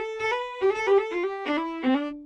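Red Room Audio Traveler guitar library playing a hammer-on with the key held down: a short series of plucked, sustained guitar notes sliding between pitches, clear and close with no talk.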